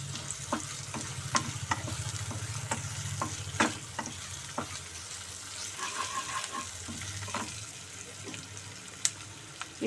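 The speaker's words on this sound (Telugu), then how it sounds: "కొద్దిగా ఫ్రై అయిన తర్వాత మనము అల్లం వెల్లుల్లి పేస్ట్" Onions frying in a pan with ginger-garlic paste, stirred repeatedly: steady close sizzle with regular scraping clicks of the spoon and a brief trickle of water partway through, no voices.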